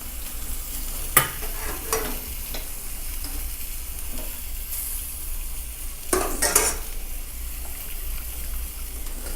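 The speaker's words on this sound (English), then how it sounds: "so we're still whisking this together" Beer cheese sauce being whisked in a pan, a close, steady scraping swish under a soft sizzle, punctuated by a couple of sharper metallic clinks against the pan.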